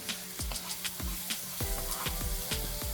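Scallions hitting a hot pan for plant-based coconut curry chickpeas sizzle with a steady hiss, broken by repeated sharp clacks and scrapes of a utensil stirring at a quick, uneven rhythm, close and moderately loud.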